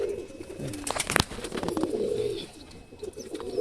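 A male Madras pigeon coos softly and close by in a short throaty phrase, with a brief rustle partway through and no talking.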